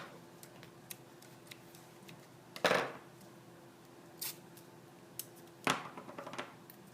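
Yarn being snipped with scissors while stringing a cardboard loom: two crisp, close cutting snips a few seconds apart, with faint ticks and handling noises in a quiet room.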